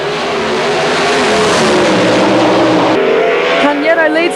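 A Pro Stock drag racing car roars at full throttle in a loud, sustained run down the strip, the engine note shifting partway through while a commentator talks over it.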